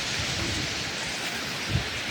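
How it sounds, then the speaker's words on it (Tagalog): Dense, constant roar of heavy rain pouring down during a strong storm by the seashore, loud and unbroken, with a faint low thud partway through. "Grabe yung lakas ng ulan dito."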